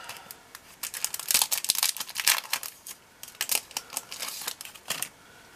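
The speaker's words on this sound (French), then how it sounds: "Je coupe en deux mon double face." Double-sided tape being cut with rapid, uneven crisp snips and crinkles in quick bursts, close up and fairly quiet, with no voices.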